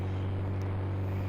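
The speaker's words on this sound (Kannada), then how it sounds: "ಅಕ್ಕ ಹೆಲಿಕಾಪ್ಟರ್ ಬಂತು ನೋಡಿ." A helicopter in a zombie war video game drones with a steady, loud engine hum and low rotor tone, continuous and unbroken, no voices.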